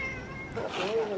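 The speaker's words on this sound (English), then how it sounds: "Oh, there's another cat here as well." A cat meows once outdoors in Skiathos after flooding, a short plaintive rising call heard close and fairly quiet, with a soft voice murmuring underneath.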